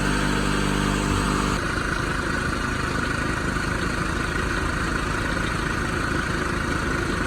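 A car engine idles steadily with its AC compressor pulley bypassed, a continuous low rumble holding even and smooth throughout, near and alone with no talk.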